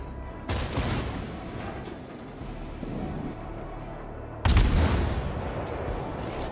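Destroyer cannons in World of Warships boom in two heavy salvos a few seconds apart, each followed by a rumbling tail over a constant background of battle noise.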